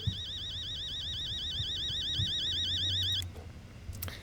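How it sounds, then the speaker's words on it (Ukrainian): An alarm clock rings in the horror video game Fears to Fathom: a steady, warbling electronic tone that sounds continuously for about three seconds, then cuts off abruptly, leaving quiet room noise. "я знаю, що вимкнути будильник"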